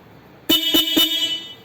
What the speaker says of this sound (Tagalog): Try natin yung busina.